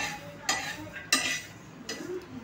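Curry leaves and garlic roasting in a pan over a medium flame while being stirred, with three sharp scraping clinks of the spoon against the pan over a low background hiss, close up and without speech.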